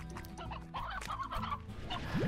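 Chickens clucking in the video game Slime Rancher, a flurry of close, overlapping clucks and short squawks from several birds, fairly loud and steady throughout.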